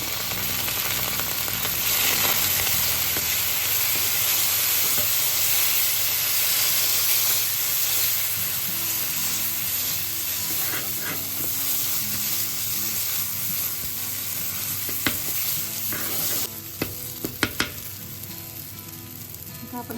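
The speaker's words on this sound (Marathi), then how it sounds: "फक्त आपल्याला ही ग्रेव्ही छान परतून घ्यायची" Onion-spice gravy for Marathwada-style stuffed brinjal masala being sautéed in a pan gives a loud, continuous close sizzle and hiss for about twenty seconds, with clattering stirring strokes growing more frequent near the end. No one speaks.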